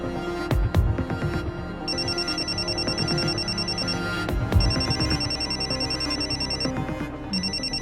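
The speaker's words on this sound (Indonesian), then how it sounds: "Maaf Om, saya angkat telepon dulu ya." A telephone rings with repeated electronic bell bursts in a steady on-off pattern, loud and close, with other sounds briefly thumping in at the start and midway.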